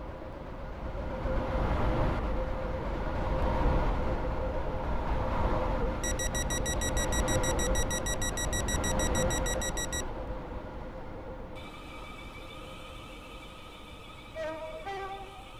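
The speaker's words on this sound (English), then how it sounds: "The train now approaching Platform 2 does not stop here." A non-stopping train runs through Platform 2 at Millcastle station: a loud, sustained broadband rush and rumble builds for several seconds. Steady electronic beeping tones follow as the noise fades.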